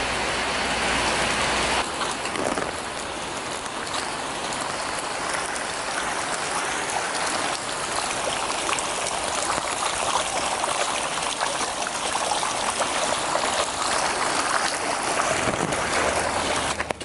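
Rainwater runs through a small garden gully toward a river after tropical rain, a steady broadband rush and trickle that carries on unbroken and fairly loud for the whole stretch, with no voices.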